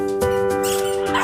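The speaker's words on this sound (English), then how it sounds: "He bought 2 3-month-old Jack Russell Terrier puppies from the Braganza family in Mapusa" Jack Russell Terrier puppies, three months old, bark and yip in quick bursts close by, with whimpering whines between the barks and no talk.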